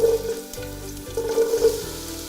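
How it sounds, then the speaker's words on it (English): Diced onions frying and sizzling in warm olive oil in a pan, a steady close hiss with brief stirring clatters, and no one talking. "Our olive oil is now warm, so we're going to go ahead and add our diced onions."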